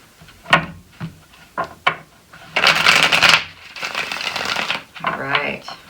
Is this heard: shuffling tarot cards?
yes